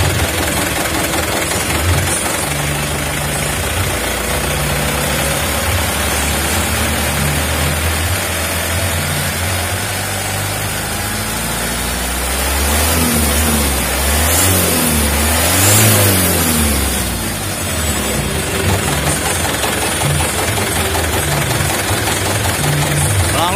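A Mitsubishi Canter Super Speed truck engine with a broken timer, idling roughly with a knocking chug, then revved in a rising and falling burst partway through before settling back to idle, close and loud.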